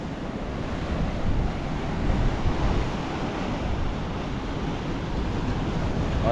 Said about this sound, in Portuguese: Olha essa onda vindo aí.